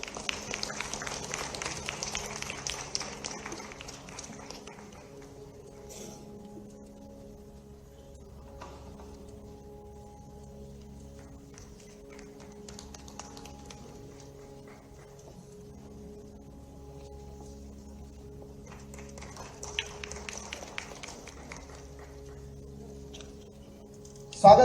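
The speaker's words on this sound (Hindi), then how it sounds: "आपकी तालियां निरंतर बजती रहें" An audience applauds at the Madhyanchal Utsav 2026 cultural event in Delhi, in two bursts of clapping, one at the start and one later, over soft tonal music with quieter stretches between.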